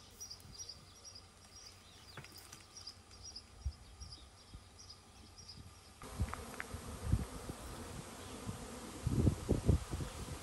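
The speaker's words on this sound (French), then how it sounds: "Et là, on voit vraiment que l'essaim est en formation." A honeybee swarm forming in a shared garden near raspberry canes hums as a continuous buzzing drone, with individual bees zipping past closer to the microphone and faint birdsong in the background.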